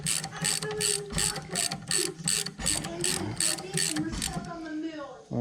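A ratchet tightens a bolt on a tubular brake control arm fitted with Wilwood brakes, giving a rapid, regular series of close clicking strokes with brief pauses between them.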